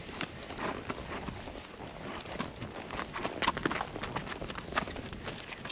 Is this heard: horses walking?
yes